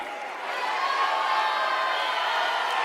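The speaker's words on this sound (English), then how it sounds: "Let's give them one huge round of applause." An audience at the 2015 Miss Universe preliminary competition cheers and applauds in a sustained, loud wash of crowd noise that swells after a brief quieter start and holds steady.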